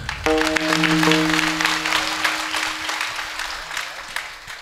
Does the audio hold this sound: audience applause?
yes